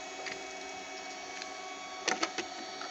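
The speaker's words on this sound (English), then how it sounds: "The buzzing you're hearing, well, that's my printer. Right now I'm printing some more of these airplane brackets." A 3D printer buzzes steadily while printing plastic airplane brackets, a constant close mechanical whine with a few brief louder clicks and stepper chirps near the end.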